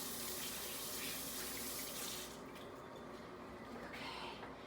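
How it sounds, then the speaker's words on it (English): Tap water runs steadily into a sink, a continuous hissing splash that shifts slightly partway through as hands move under the stream. "Gotta wash my hands."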